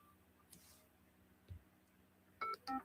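Telephone dialing tones during a cold-calling session, a few faint clicks followed by two short keypad beeps near the end, quiet and close with no talking.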